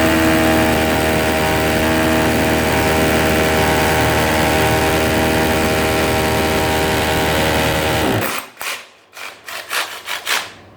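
A loud, continuous Parkside PABH 20-Li B2 cordless hammer drill in hammer mode roars and rattles steadily for about eight seconds, then cuts into several short, sharp bursts.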